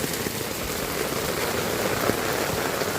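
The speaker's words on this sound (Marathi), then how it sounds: "हा पाऊस पडत आहे." Heavy early-morning downpour during a storm in Nanded, heard as a dense, steady roar of rain hammering surfaces, loud and unbroken throughout with no distinct thunderclap.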